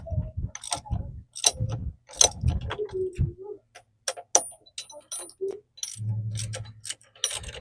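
A pulley puller works on the pulley of a 1971 Cadillac big block engine, giving close, irregular metallic clicks and ratcheting taps in short bursts, with a brief low grinding stretch near the end.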